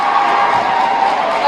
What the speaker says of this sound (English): now can I have you clap? Show me your enthusiasm.